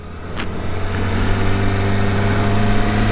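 A 2023 Kawasaki Ninja ZX-25R motorcycle engine runs steadily close by, not yet fully warmed up, giving a smooth, even mid-pitched hum with a brief higher chirp near the start.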